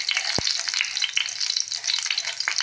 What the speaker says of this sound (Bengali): ভাজা হলে ফোড়ন হিসাবে দেবো একটু